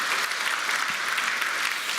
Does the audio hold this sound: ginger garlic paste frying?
no